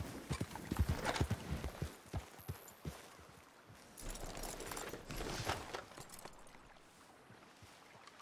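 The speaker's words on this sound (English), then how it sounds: "Go, horse." Horse hooves in Red Dead Redemption 2 clip-clop in a quick, uneven rhythm at moderate volume, mixed with soft ambient game noise and light splashing.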